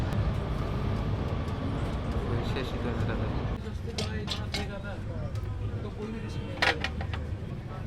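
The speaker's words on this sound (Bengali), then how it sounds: "আমরা একটা টানেল অতিক্রম করছি এখন" Loud, steady rumble of a train passing through a tunnel, heard from inside the train, a dense roar that suddenly opens up and thins, with clicks and squeaks over it.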